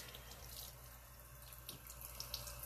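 Tap water runs into a sink to wet a makeup brush before cleaning with tea tree soap, a soft, steady faucet stream with light splashing, close and quiet.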